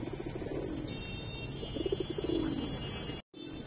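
Giribaz pigeons of the Palla line coo inside a loft. Soft, low cooing phrases rise over a constant background hum and murmur, and the sound cuts out briefly near the end.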